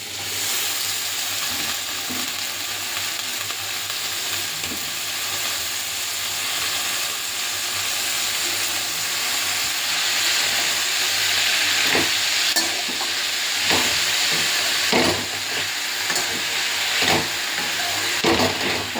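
Kulekhara greens go into potatoes frying in a pan and get stirred, with a continuous close hiss and sizzle and irregular scraping and clattering stirring strokes growing busier toward the end. No speech.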